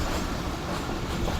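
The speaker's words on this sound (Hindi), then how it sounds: "पहुँच चुकी है लाला मूसा जंक्शन पर हमारी 40 डाउन जाफर एक्सप्रेस।" At Lala Musa junction, the Jaffer Express, hauled by a Chinese locomotive, gives off a brief, dense rumble of moving rail cars and wheels, loud and close.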